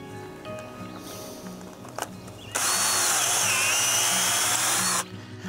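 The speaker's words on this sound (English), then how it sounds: "going to drill to the proper depth" Power drill boring into a tree trunk to make an injection hole, a loud steady whine running about two and a half seconds, starting abruptly and stopping short after quieter background sounds.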